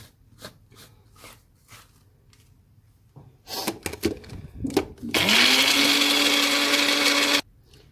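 Quiet clatter and clicks, then a loud blender roars to life and whirs steadily for a couple of seconds before cutting off abruptly.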